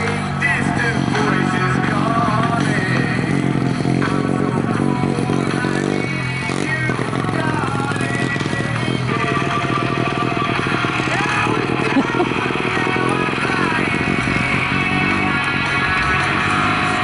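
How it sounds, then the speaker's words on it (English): A rough-sounding junior speedway motorcycle engine revs loudly and continuously at a Rosebank track, with clattering and scraping mixed in. Voices can be heard underneath the engine. "that junior bike doesn't sound that great, does it?"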